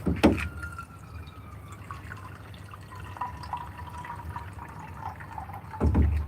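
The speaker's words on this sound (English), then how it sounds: "Water." Water runs steadily into a pot for mashed potatoes in a home kitchen, a continuous trickling fill under faint room noise, bracketed by brief louder clunks at the start and end.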